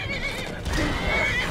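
In Skyrim, a horse under attack by a skeleton lets out a drawn-out neigh twice over clip-clop hoof sounds and steady game ambience.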